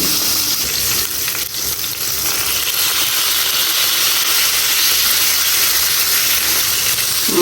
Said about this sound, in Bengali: ভাজিটা আমি ভেজে দিয়ে সিদ্ধ করতেছি